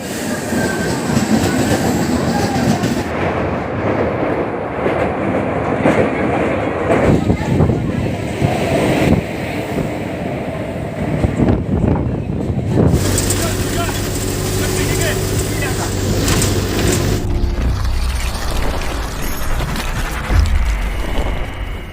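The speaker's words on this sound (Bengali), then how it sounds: "দীঘা ছেড়ে সাতটাগাছি সামার স্পেশাল ট্রেনটি রওনা দিল সাতটাগাছির উদ্দেশ্যে" The Digha to Santragachi summer special train runs with a loud, continuous rumble of wheels and carriages, rhythmic clatter and a shift into heavier, lower droning partway through, up close from onboard.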